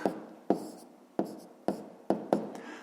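Handwriting numbers with a pen on paper, six soft scratchy strokes spaced about half a second apart, close and quiet with no voices.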